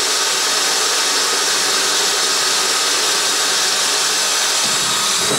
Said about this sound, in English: So you take your small drill. In she goes. And we're going to drill two pilot holes here.